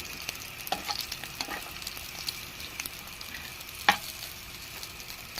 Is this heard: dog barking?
no